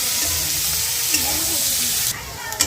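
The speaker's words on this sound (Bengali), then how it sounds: "এগুলোকে একটু ভেজে নেওয়া হবে" Carrots, beans, green chili and onion fry in a pan with a loud, close, continuous sizzle and hiss. A few stirring scrapes come through, and a brief muffled voice is heard near the end.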